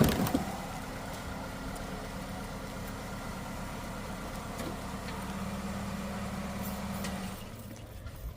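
A 2009 Chevy Cobalt with 136,106 miles runs steadily, its engine giving a low, even hum close by with no talk, then easing off at the very end.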